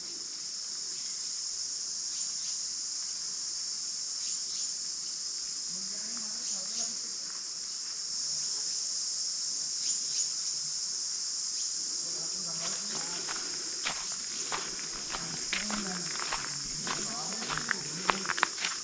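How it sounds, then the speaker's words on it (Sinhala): Cicadas in the Makandawa rain forest of Sri Lanka keep up a continuous high, shrill drone for the whole stretch, with soft footsteps and rustling beneath. "ඔන්න දැන් නම් අහන්න ඕන රැහැයි ගෑ ගන්න සද්දේ"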